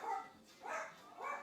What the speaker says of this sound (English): Don't understand why you're barking.